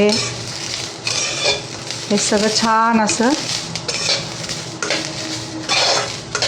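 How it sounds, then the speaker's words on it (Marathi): Poppy seeds and spices roasting in a pan for spicy misal, with stirring scrapes and clinks of a utensil against the pan over a steady sizzle and crackle, broken by a brief spoken phrase. "भाजून झालेले बघा, तडतड आवाज येते"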